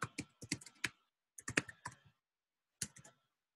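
A new password is typed on a computer keyboard: close, crisp key clicks in three quick bursts separated by short pauses, with no talking.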